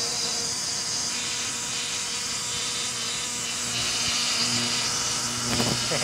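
Tormach CNC machine engraving aluminum at 15 inches a minute, a steady high whine and buzz of the spindle and cutter with constant hiss, close and unbroken for the whole stretch.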